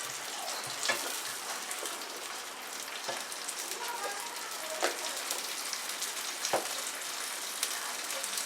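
Pizza sauce simmering in a pan gives off a steady, close sizzle and bubbling crackle, with a few louder pops and spits standing out along the way and no voices.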